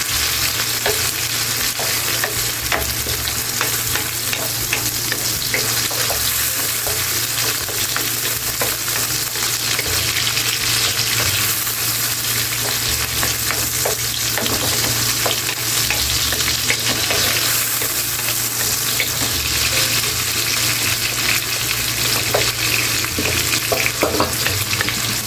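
Tomatoes frying and being stirred and crushed in a pan for fried fish sarciado, a steady close sizzle with scraping utensil strokes throughout, no talking.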